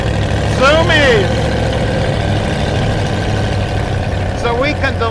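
A 1933 Ford three-window coupe street rod with a blower engine idling in a steady low rumble, with voices talking over it at the start and again near the end.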